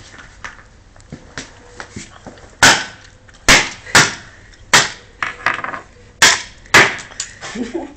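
Repeated hammer blows smash a video game, with sharp cracking and splintering impacts, lighter taps building into heavy strikes at an irregular rhythm, close and loud, with voices in between.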